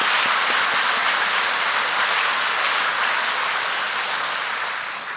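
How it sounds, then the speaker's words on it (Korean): A church congregation at Sunday worship applauds its choir, including sopranos, altos, tenors, basses, the conductor and the accompanist. The clapping is a thick, sustained, loud roar that fades slightly toward the end, with no talking. "모두를 위해서 박수 한번 하겠습니다"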